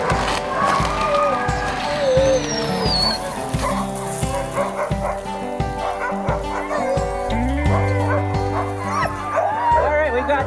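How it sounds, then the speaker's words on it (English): Alaskan Huskies at a dog sled race in northwest Montana bark and yip in a rapid, near-constant chorus, with some whimpering mixed in and a brief voice underneath. "we have will be Detour and Electra racing Alaskan Huskies."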